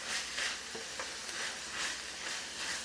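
Ground beef and tomato paste are stirred in a hot pan, giving a continuous sizzle broken by repeated scraping strokes of the spoon, close and fairly loud.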